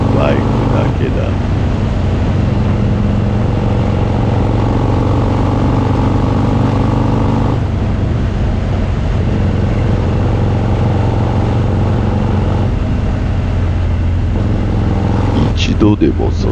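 Harley-Davidson FXD-R custom motorcycle cruising a Tokyo expressway on the C1 Loop toward Daikoku PA, its steady engine drone and wind rumble running continuously and close, with a brief change in the final second.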